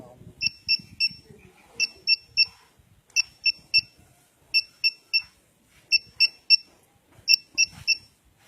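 Two-way motorcycle alarm on a Honda Mio Soul i 125 chirping in crisp triple beeps, repeated in groups with short gaps, fairly close, over faint background noise.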